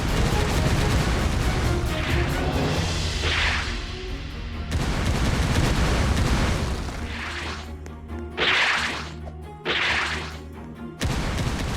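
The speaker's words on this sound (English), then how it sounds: "Then I'm gonna go ahead and use chain kick." A chain kick special move in a video game lands as a series of sharp whooshing, whip-like impacts with booming hits, arriving in repeated bursts over a dense layer of game sound effects.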